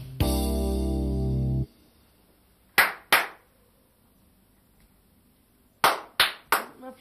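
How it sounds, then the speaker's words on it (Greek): Several sharp hand claps ring out in a quiet room, two close together near the start and a quick run of three or four later, separated by near silence after a long sustained tone. "Ποιος χειροκροτάει."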